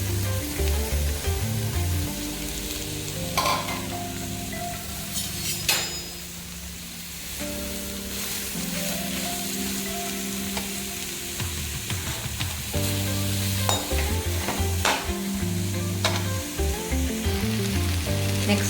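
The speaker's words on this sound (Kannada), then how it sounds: "ಈಗ ಈರುಳ್ಳಿ ಹಸಿಮೆಣಸಿನ್ಕಾಯಿ ಫ್ರೈ ಮಾಡ್ಕೊಂಡ್ಬಿಡೋಣ." Onion and green chillies fry in hot oil for chicken egg fried rice, a loud continuous sizzle with occasional clanks and scrapes of stirring in the pan throughout.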